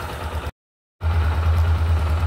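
A Yamaha Lander 250 motorcycle with a weak battery runs at idle, a close, steady engine rumble that cuts out briefly to silence before resuming louder.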